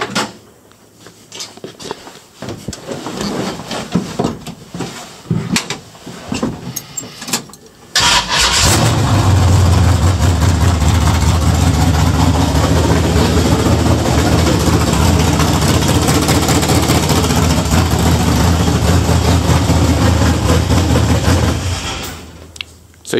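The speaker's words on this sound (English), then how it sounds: "I'll go ahead and start it up for you guys so you can now hear how loud it is." A Chevelle with a loud, cheap exhaust starts up after some clicks and cranking, then settles into a loud, rough, rumbling idle that drones steadily for about fifteen seconds before cutting off.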